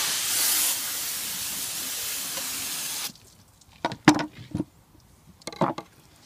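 Water sprays steadily onto a cutting board for about three seconds during tuna filleting, a loud continuous hiss that cuts off abruptly, followed by a few short knocks and clatters.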